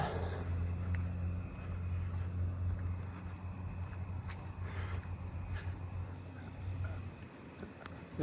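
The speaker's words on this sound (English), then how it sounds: "Southeastern field cricket close by." A southeastern field cricket chirps close by at night amid a full chorus of other crickets and katydids, its repeated trills riding over a steady insect hum and a low rumbling background.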